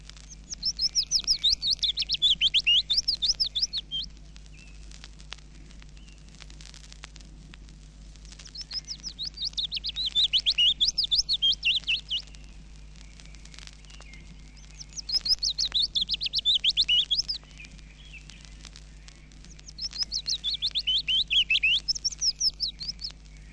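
A willow warbler sings its long, descending modulated phrases from a treetop, four clear repeated strophes spaced a few seconds apart over quiet background.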